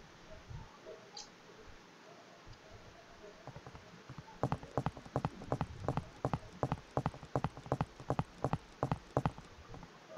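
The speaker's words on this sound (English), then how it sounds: "Now you can hear their footstep sound" Enemy footsteps in a Unity-built PUBG Mobile clone team deathmatch game sound as a steady run of crisp, evenly spaced steps that start after a quiet stretch and continue moderately loud to the end.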